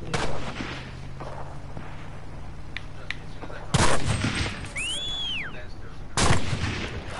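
Gunfire in Cuisine Royal, a few loud separate shots over a background hum, with faint voices between the shots.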